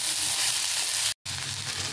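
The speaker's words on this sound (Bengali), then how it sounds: "এবারে মূলো শাকটার সঙ্গে বেগুনটা দিয়ে আর একটু ভালো করে ভেজে নেব" Radish greens and eggplant fry in oil in a pan for a mashed bharta dish, a steady loud sizzling hiss broken by one brief cut of silence.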